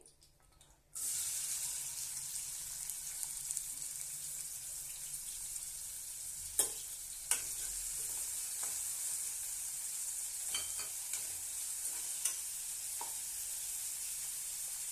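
Two finely chopped onions frying in hot oil, a loud sizzle that bursts in suddenly and holds steady, broken by a few sharp spatters and pops; no talking.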